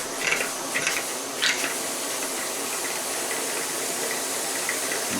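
A handmade model steam engine runs with a steady hiss throughout, broken by a few brief, sharper puffs near the start. It sounds close and fairly quiet.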